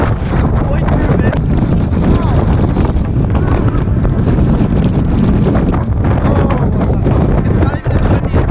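Strong coastal wind at the Bay of Martyrs on the Great Ocean Road buffets the microphone in a constant, heavy roar with deep rumbling gusts, loud and unbroken throughout.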